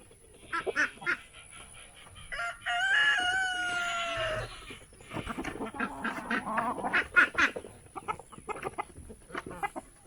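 Ducks and chickens on a farm at feeding time quack and cluck close by, with a rooster-like crow in the middle and busy overlapping calls throughout.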